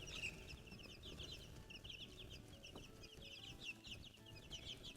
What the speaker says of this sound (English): we've got baby chicks over here on the side. So these are our new laying hens.